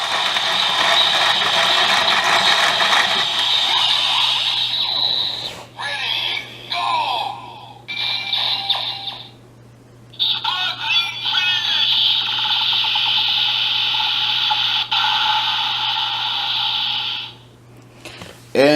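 A Kamen Rider Build DX toy belt with a Rabbit Tank Sparkling bottle plays its final attack, loud electronic music and effects with mechanical ratcheting clicks, brief pauses between bursts, and a voice speaking over parts of it.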